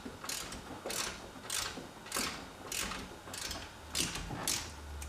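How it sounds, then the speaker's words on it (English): Latch on a C4 Corvette targa top being turned to loosen it, a series of about nine evenly spaced ratcheting clicks, close and fairly quiet, with no voices. "All the videos I've watched say it takes a lot of turns to get this thing loose."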